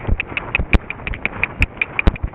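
A horse trotting while being ridden, its hooves striking in an even, quick clip-clop rhythm close by, with a few sharper louder footfalls and no talking.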